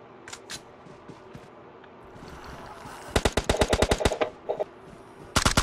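Video game gunfire from an M4-style automatic rifle comes as a rapid burst of sharp, close shots, followed by a second short burst, with faint scattered sounds before it.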